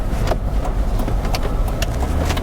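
A car with an intercooler setup accelerates normally to highway speed, around 110 km/h, heard from inside as a steady, loud broadband rumble of engine and road noise with no talk.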